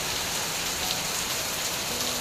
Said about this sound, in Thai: วันนี้ออกไปไหนไม่ได้เลยครับฝนตกหนักมากเลยวันนี้